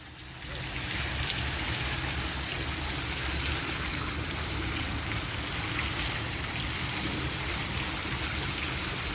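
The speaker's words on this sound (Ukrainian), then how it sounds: "Дуже гарний фонтан." A water fountain with horse statues on Fellini Square in Rimini splashes continuously, a dense, steady rush of falling water that stays close and loud throughout.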